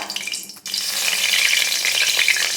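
Dried red chillies and a bay leaf hit hot oil in a kadai, bursting into a loud, dense sizzle after a brief quiet start and holding steady throughout; no speech.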